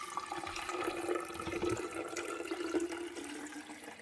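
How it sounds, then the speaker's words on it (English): Tap water pours into the reservoir of a Mr. Coffee 2-quart iced tea maker, a steady trickling splash that runs the full length at moderate, close level. "You've got to pour the water into there."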